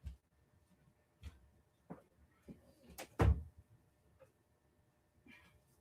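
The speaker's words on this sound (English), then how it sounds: "I need to go over here and close the door so you guys don't hear all the noise from downstairs" A door in a house is closed amid scattered soft knocks and bumps, with one louder thud partway through in an otherwise quiet room. No one speaks.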